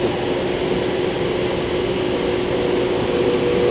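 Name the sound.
vacuum pump drawing material into an extruder's upper reservoir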